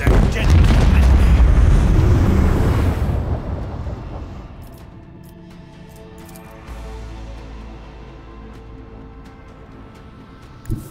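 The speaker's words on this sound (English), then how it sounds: "Let the macro cannon sink their deadly enemy" A macro cannon fires in the space combat of Warhammer 40,000: Rogue Trader, a heavy, loud booming blast rolling for about three seconds, then a long low rumbling decay with a faint thump near the end.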